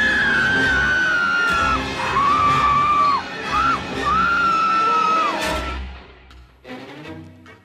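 A loud, drawn-out terrified scream sound effect rises and wavers in several long cries, then breaks off into a short burst of clattering and fainter noise.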